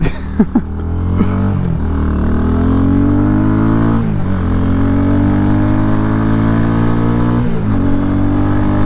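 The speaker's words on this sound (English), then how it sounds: "about to crank the bike up, let it warm up, and then we're gonna go for our first ride" A Chinese dirt bike motorcycle engine fires up with a few sharp starting bursts, then settles into a steady, close idle with occasional light blips of the throttle as it warms up.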